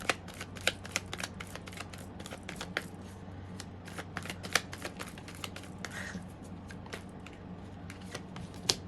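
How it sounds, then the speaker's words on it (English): Tarot cards being shuffled, a rapid run of crisp riffling snaps and flicks, close and fairly loud, continuing without pause and with no talking. "These cards are just popping and flying."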